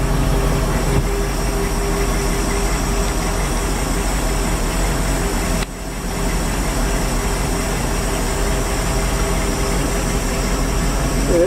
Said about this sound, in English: she idles good, idling about 800 and something RPMs